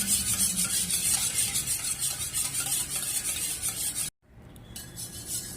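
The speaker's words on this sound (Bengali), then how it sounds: "প্রথমে ডিম দুটো ভালোভাবে ফেটিয়ে নিতে হবে।" Two eggs being whisked in a bowl for muffin cake batter, a steady close scraping and stirring rattle that runs continuously, breaks off abruptly, then resumes more faintly.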